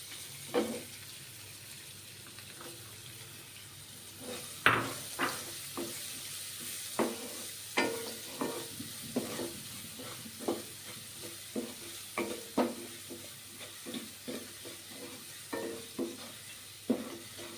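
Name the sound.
onions frying and sizzling in a pan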